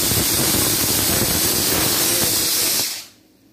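A pressure cooker vents a loud, steady rush of hissing steam in a home kitchen, holding strong for nearly three seconds before cutting off abruptly into quiet.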